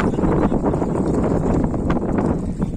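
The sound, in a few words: wind blowing outdoors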